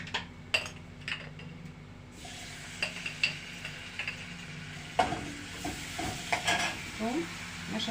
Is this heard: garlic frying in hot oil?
yes